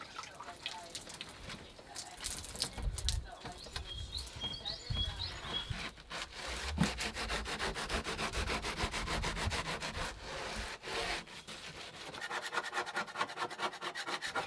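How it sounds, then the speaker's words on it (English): Old paint is scraped off a door with repeated rasping strokes, a dense rough scratching that continues with little pause at close range. "now that I started trying to scrape off some of this paint"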